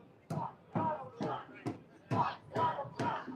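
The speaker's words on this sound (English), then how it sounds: "And now the crowd is chanting, fuck Donald Trump." A protest crowd at a No Kings rally in New York chants in rhythmic shouted bursts, seven evenly spaced surges of many voices heard from a middle distance.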